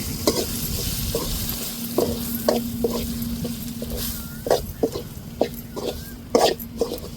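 Spices with turmeric and curry masala sizzle and crackle in hot oil while a utensil scrapes and stirs in irregular bursts, close and fairly loud.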